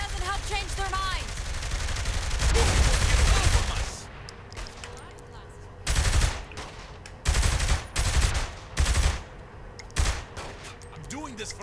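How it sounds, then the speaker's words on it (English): Bursts of gunfire in Saints Row: The Third, a sustained volley followed by several short, loud rapid-fire bursts spaced a second or so apart, with a voice speaking over the opening. "Shooting them probably doesn't help change their minds!"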